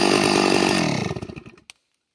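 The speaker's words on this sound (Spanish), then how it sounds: "es el mero toro en el motosierra, Manuel Munguía." Chainsaw cutting firewood for household use in Olancho, running loud and close before winding down, the engine sputtering in slowing pulses and falling silent near the end.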